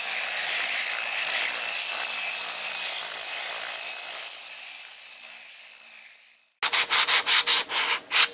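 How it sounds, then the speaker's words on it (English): A dual-action sander with 80-grit paper sands filler on a cracked car dashboard, a steady, loud whir for several seconds, fading out, then returning as a series of short sanding bursts. "Now I sand this down with 80 grit on the DA."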